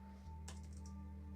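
A short burst of computer keyboard typing as timeframe numbers are entered in TradingView, a few quick faint clicks over a low steady electrical hum.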